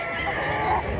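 Chickens at a rural market in Mantalungon, Barili, Cebu, giving brief clucking calls over a busy background murmur, fairly close and moderate in level.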